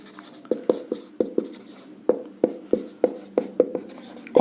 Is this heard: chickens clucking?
no